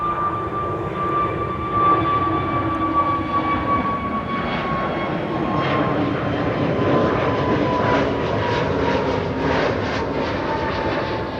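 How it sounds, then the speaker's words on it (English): An SAS passenger jet departs Amsterdam Schiphol for Copenhagen, a loud sustained jet engine roar with a whining tone that slowly shifts in pitch as it passes at a distance, steady and alone. "SAS flight 552 to Copenhagen"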